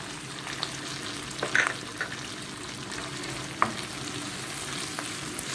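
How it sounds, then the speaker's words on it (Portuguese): Garlic fries in a hot pan with a gentle continuous sizzle, broken by a few soft clicks and scrapes of stirring. "vou colocar o alho"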